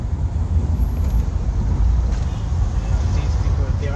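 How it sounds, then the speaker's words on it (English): Low, steady rumble of city road traffic in Kingston, Jamaica, heard from inside a vehicle, engine drone constant and fairly loud, with muffled voices underneath. "Kingston traffic."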